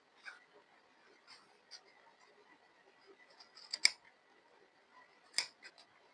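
Scissors snip cloth corners with a series of quiet, irregularly spaced cuts, two sharper metallic clicks standing out, close and faint with no talking.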